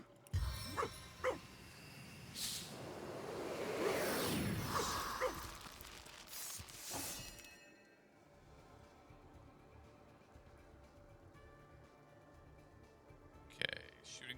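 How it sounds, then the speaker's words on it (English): A zombie dog in Divinity: Original Sin gives raspy, guttural barks and growls, loudest early on and fading, with a couple of sharp yelps; a voice talks over part of it. "Is that a zombie dog?"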